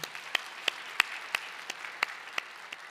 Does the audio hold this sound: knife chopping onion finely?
no